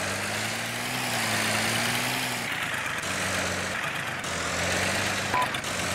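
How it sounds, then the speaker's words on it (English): Tractor engine idling in a military video game, a steady low rumble with a faint tonal drone that shifts pitch slightly, heard alone without talk. "Wait for this tractor to leave."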